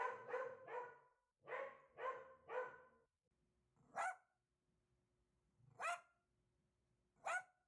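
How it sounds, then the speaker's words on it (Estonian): A dog barks in two quick clusters of three, then lets out three single sharp barks spaced about two seconds apart, clear and fairly close against a quiet background. "Kui koer on kuri, siis ta haugub."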